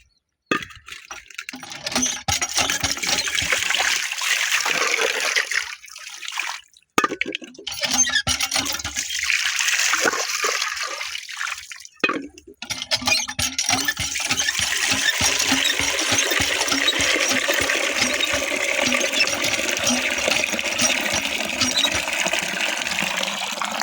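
Water splashing and rushing from an outdoor tap into a container, loud and close, with brief gaps and clinks of the vessel. The sound grows fuller and steadier toward the end.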